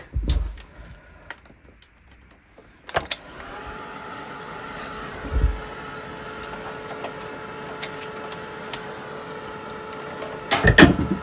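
A heat tool runs continuously, drying paint on an art journal page, giving a steady whirring hum after a few handling knocks, with more bumps near the end.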